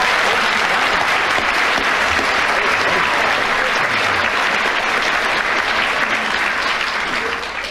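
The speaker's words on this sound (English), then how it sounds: "Applause with 12 seconds starting from now. The better the applause, the louder it is." Sustained, loud applause from a studio audience at a radio panel game, dense clapping filling the whole stretch without a break and only easing slightly at the very end.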